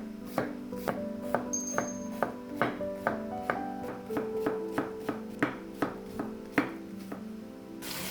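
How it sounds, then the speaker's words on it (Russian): Onion being chopped with a knife on a board while minced meat fries, about fifteen evenly spaced crisp knife strikes at a steady rhythm, close and clear with no talking. "И пока жарится фарш, нарезаю лук"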